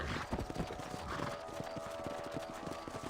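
Horse hooves in Red Dead Redemption clip-clop at a steady trot over a dense background of ambient music and noise, with no clear speech.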